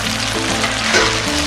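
Tofu and egg frying in hot oil in a pan, a steady dense sizzle with crackling pops, loud and close, continuing without pause.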